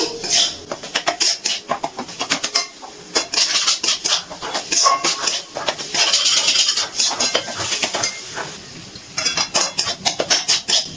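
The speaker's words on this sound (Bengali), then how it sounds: "গ্যাসের ফ্লেমটা লোতে রেখে একটু নাড়াচাড়া করে নিচ্ছি" A utensil scrapes and taps against a pan as gram flour and spices are stirred on a low flame for soya chunk kofta curry, making close, rhythmic clinks and scratches in irregular bursts.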